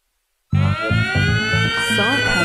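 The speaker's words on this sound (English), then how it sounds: "Today's siren sounds emanate from higher tech systems and still mean trouble is on its way." After a moment of silence, a loud electronic siren starts abruptly with rhythmic pulsing low tones under a steady high wail that later warbles.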